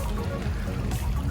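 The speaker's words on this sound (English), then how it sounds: "Right about there, it drops down into the creek." Water from a spring-fed creek tumbles down a hillside into the creek below, a steady close pouring and trickling rush that holds level throughout with no voices.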